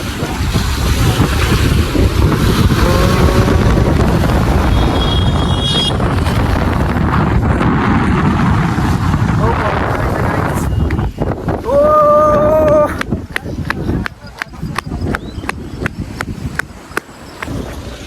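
Strong gusting wind near Bhavnath temple in Gujarat roars and buffets the microphone in a loud continuous rush that eases toward the end, broken by brief clicks and tonal squeals.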